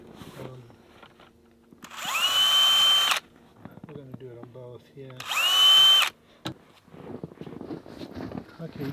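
Two short bursts of a power drill whirring, each about a second long, between people talking and light clattering and handling noises at an off-grid Alaskan cabin.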